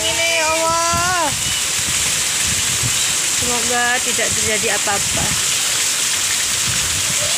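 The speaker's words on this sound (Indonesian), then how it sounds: "Hujan deres angin-angin nih kok." Heavy rain pours in a strong windstorm on a Thursday night, a loud continuous roar with gusts beneath it, while someone speaks over it.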